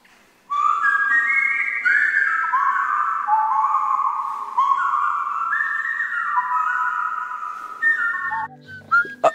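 A person whistles a lively melody from Super Mario 2, clear and close, with quick shifting notes for several seconds before it ends in some brief handling noise.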